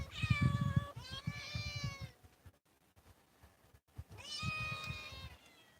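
Pet cat, a bobtailed kitty, meows twice up close, each call drawn out and tonal, with a quiet pause between them and no one speaking.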